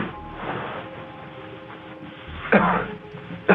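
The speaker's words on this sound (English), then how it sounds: "This man just cleared his throat like he finna sing the national anthem" A man clears his throat with a couple of short, rough rasps over a muffled, noisy background.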